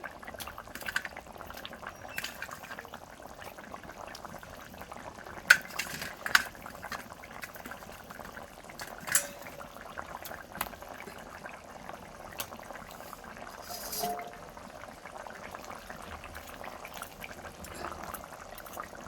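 Potatoes and fish simmering in a curry pot, a soft steady bubbling with occasional light clinks of a utensil against the pot, with no talk.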